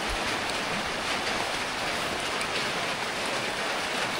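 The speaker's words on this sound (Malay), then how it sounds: "Tahu-tahu pagi ni hujan lebat" Heavy morning rain pours steadily at Teratak Simpul Baling during the dry season, a dense, even hiss of drops hitting surfaces, loud and unbroken throughout with no voices.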